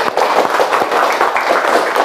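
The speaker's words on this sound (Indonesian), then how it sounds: "tepuk tangan." A classroom of primary school students claps together in a dense, steady burst of applause, close and loud throughout, with no speech over it.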